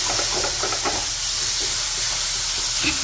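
Tomatoes sautéing in a hot pan for Kerala pepper rasam give off a loud, steady sizzle and hiss, close and unbroken, with faint stirring scrapes underneath.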